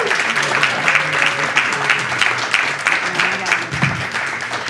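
Comedy club crowd at the Go Bananas show claps loudly and continuously as comedian Chris Weir is brought on, a dense, sustained round of applause with a few cheers mixed in.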